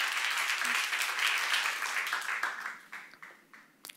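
Congregation applauding during a church seminar: a steady burst of clapping that holds for a few seconds, then thins into scattered individual claps before it dies away.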